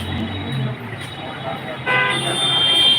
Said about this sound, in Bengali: পুরো গাড়ি ঘোড়া রাস্তা জ্যাম